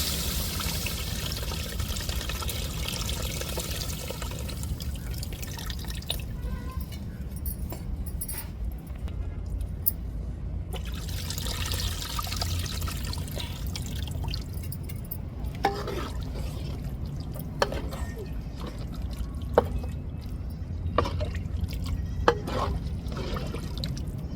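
Soaked, dissolved liquid, likely tamarind, pours into masala for a fish curry, a continuous splashing trickle with scattered clinks and scraping of utensils close by.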